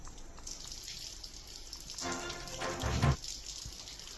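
Rain falls during a thunderstorm in Delhi-NCR as a steady, soft patter, swelling into a brief louder, heavier rush of drops near the middle before settling back; no voices.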